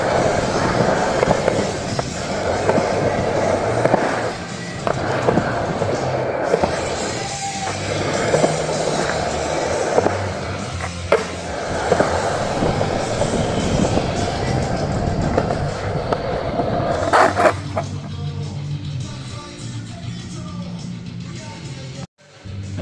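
Skateboard wheels roll and clatter across a slippery Skatelite mini ramp at an outdoor skatepark in Bali, a loud continuous rumble with repeated knocks and grinds over about twenty seconds before it quiets near the end.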